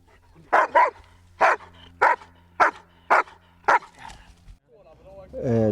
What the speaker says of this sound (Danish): Hundene markerer ved at gø.